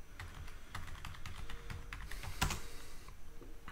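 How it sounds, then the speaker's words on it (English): A prompt being typed on a computer keyboard, a steady run of close, quick keystrokes with a louder clack partway through, no voices. "we're gonna type in hyper realistic"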